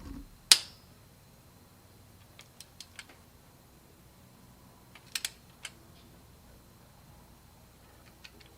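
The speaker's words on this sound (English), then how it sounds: "I hate this torque wrench" A torque wrench clicks while tightening bolts to 22 foot-pounds on a 1987 El Camino, with one sharp loud snap followed by scattered, faint ticks and clicks in a quiet garage.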